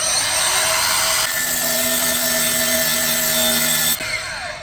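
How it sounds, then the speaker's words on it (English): Steel rebar being cut with a power cutter, a steady loud grinding whine with sustained tonal hum that runs unbroken for about four seconds, then drops off as the cut finishes. "Ah, freshly cut steel."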